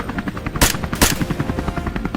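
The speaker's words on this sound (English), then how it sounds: "Gunfire rang out in rapid bursts" Rapid bursts of gunfire from hunters ambushing wild boar at a stream: two loud, sharp blasts over a dense rattling, thumping background.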